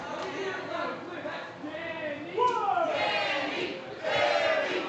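A wrestling crowd at a pro wrestling event cheers and chants for the champion, rising in surges of shouts with commentators talking over it.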